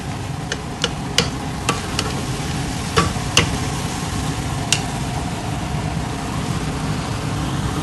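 A large batch of gajar ka halwa (carrot halwa) is stirred in a pan with a spoon, making scattered sharp clicks and scrapes over a steady low sizzling bed.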